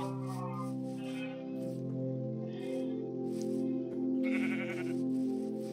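Minecraft sheep bleat in a few brief bursts, partly masked by loud, steady background music.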